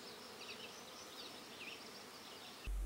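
Honey bees buzz steadily around a beekeeper working the hive, a dense, close swarm drone with individual bees whining past, ending in a sudden thump.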